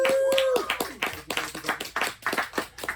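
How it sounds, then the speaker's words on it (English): Audience clapping for comic artist Shawn Martinbrough at an in-conversation event, close, loud bursts of hand claps from a small crowd in a brisk uneven rhythm, with a brief voice and tone at the start. "Can I get a round of applause, please?"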